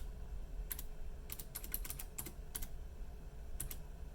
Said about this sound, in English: for the username, you're going to want to type in